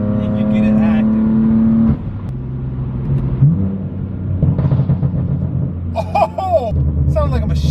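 A straight-piped BMW M4 F82's loud engine revs and rumbles up close on a highway, with sharp crackling exhaust pops breaking through near the end.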